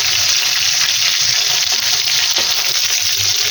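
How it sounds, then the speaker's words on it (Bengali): Tomatoes hit hot oil seasoned with black cumin in a pan for katla fish kalia, giving a loud, continuous crackling sizzle with no talking. "এখন টমেটোগুলো তেলের মধ্যে ভেজে দিব"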